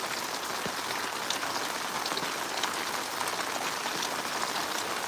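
Heavy rain pours steadily over a house in a Punjab village near Sangrur, a dense unbroken hiss of drops and running water, with no voices.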